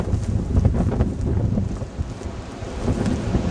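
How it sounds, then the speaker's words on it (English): A strong northerly winter wind roars through falling snow in Connecticut, a loud, steady low rumble with gusty swells and buffeting noise throughout, with no voices. "North wind, that strong northerly wind is creating."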